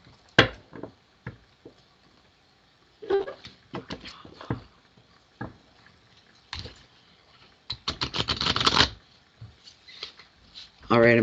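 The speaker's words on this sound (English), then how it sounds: "I'm going to give them a good shuffle here." Tarot cards are riffled and shuffled in quick bursts, with a longer run of rapid flicking near the end, between quiet pauses.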